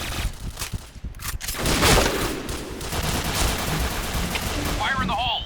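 SMG fire in the shooter game Point Blank, dense loud automatic bursts layered over a continuous roar of action, ending with a short electronic game tone.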